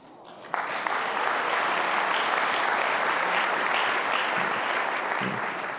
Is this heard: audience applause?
yes